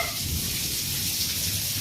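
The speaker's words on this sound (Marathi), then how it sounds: "ती लय भारी पाऊस चाललाय" Heavy rain falling, a steady dense hiss of drops with no break and no voices over the short stretch.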